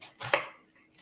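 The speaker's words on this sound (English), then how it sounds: "Just chopping up this onion." A single knife chop lands on a cutting board, slicing an onion, a short crisp knock heard close up in a quiet room.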